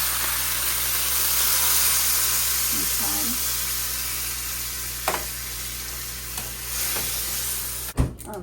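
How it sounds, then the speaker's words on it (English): Oil and thyme sizzle steadily in a frying pan, a constant broadband hiss running through the whole stretch with a few small clicks and a sharper clatter near the end. "I'm just gonna add a bit of oil and thyme."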